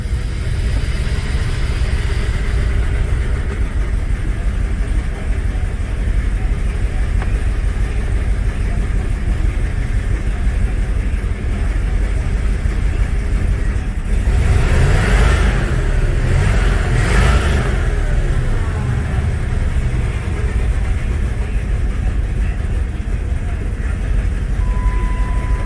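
A 1996 Jeep Grand Cherokee engine with warm-start, idle and throttle-response trouble rumbles at a steady idle, then surges briefly in a couple of revs before falling back, heard close from inside the vehicle.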